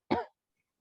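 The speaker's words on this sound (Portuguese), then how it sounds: "Não consigo parar de tossir." A woman gives a single short, close cough, a brief harsh burst that cuts off into silence with no talking around it.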